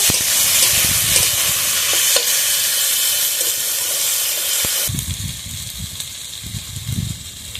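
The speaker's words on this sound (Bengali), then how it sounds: "কেটে রাখা আদা রসুন দিয়ে দেবো। আদা রসুনটা ভালোভাবে ভেজে নেব।" Ginger and garlic sizzle loudly in a pan with tomato and onion for a fish curry, a steady hiss of frying broken by stirring scrapes, dropping to a lower, bubblier crackle partway through.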